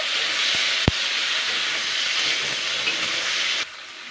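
Chopped tomatoes sizzling and frying in a pan while being stirred, a steady close hiss with a sharp clink of the utensil against the pan early on, the sizzle cutting off abruptly near the end.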